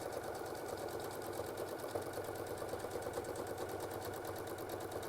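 A sewing machine stitches a quilt seam, running continuously with a fast, even mechanical rattle and hum, close and steady throughout.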